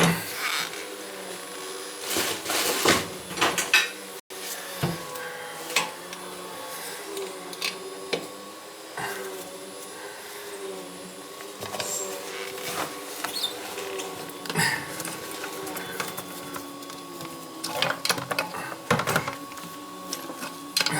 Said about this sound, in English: I gotta grind it.